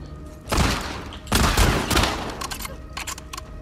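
Gunfire in the video game The Last of Us Part 2: loud bursts of rapid shots in two main volleys, followed by lighter scattered reports and clatter.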